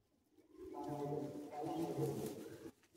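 Pigeons at a Bengali pigeon tournament, including Mughlal and Siya birds, coo in soft, low, rounded phrases that swell and fade across a few seconds, close by and steady with no talk over them.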